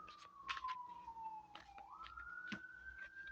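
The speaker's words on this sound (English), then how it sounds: "Listen to the sirens" A police siren wails in the distance, its pitch sliding slowly down and then rising again, with faint clicks and background noise nearby.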